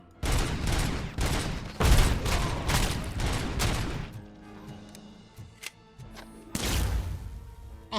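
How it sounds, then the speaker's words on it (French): Rapid shotgun blasts from the video game RoboCop: Rogue City, a loud dense fusillade of repeated shots for about four seconds, then scattered quieter impacts and a final renewed burst. "Le mec, il prend 50 coups de fusil à pompe."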